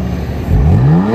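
A BMW M3 F82 tuned to Stage 2 pulls away. The close engine note rises in pitch as it accelerates into a strong, climbing rev after a brief low idle.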